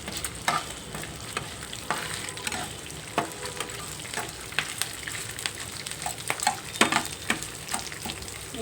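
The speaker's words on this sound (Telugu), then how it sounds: "తాలింపు అయితే బాగా వేగింది." A tempering of spices and cashews for raw mango pulihora sizzles in a pan while a spoon scrapes and stirs it in repeated sharp strokes over a continuous low frying crackle.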